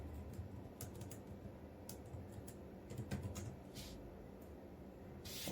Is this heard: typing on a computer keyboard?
yes